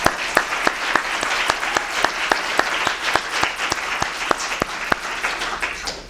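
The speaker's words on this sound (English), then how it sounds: "So how about a round of applause for the managers and deputies?" Audience applause for event managers and deputy managers at a briefing, a steady wash of many hands clapping with sharp individual claps standing out throughout, loud and close, with no talk over it.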